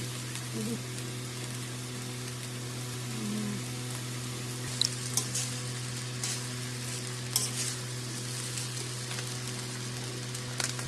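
Rice for Bengali polao frying in a pan after vinegar is added, giving a steady, soft sizzle with a few faint scrapes and clicks of stirring throughout, fairly quiet, with a constant low background hum.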